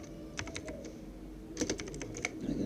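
Keys tapped on a computer keyboard while creating an account in Windows, a few sparse quiet clicks followed by a quicker burst of close typing, no voices.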